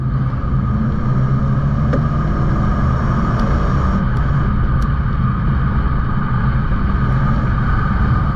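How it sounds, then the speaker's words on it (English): Steady interior engine and road rumble from a Mazda CX-5 accelerating in sport mode, loud and continuous, with subtle shifts in engine tone as it downshifts. "Downshifts, you can hear how it downshifts"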